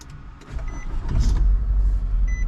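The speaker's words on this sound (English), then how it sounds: "the engine vibrates crazy in here" A wagon's engine running inside the car, a heavy low rumble that swells and holds steady with vibration, plus faint small mechanical clicks and whirs from the cabin, no talk.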